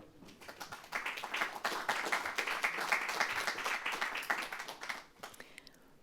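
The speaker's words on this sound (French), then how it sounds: "On les applaudit avec chaleur." Studio audience at a French health talk clapping warmly for arriving guests, a steady wash of applause that swells after the first second and fades out near the end.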